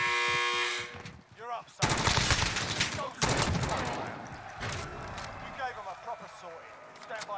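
Sustained automatic gunfire in Call of Duty Warzone bursts in rapid volleys between quieter gaps, with a player's voice talking over the shooting.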